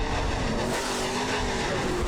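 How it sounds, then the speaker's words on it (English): Race cars roar around a short oval track in a weekly racing series, a dense continuous engine drone with rising and falling pitch as cars pass, under no talk. "Schroeder to the inside, trying to go by Ferguson. Travis Scherr is around on the top side"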